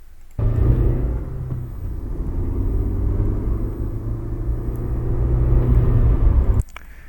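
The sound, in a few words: car engine sound effect in a Godot horror video game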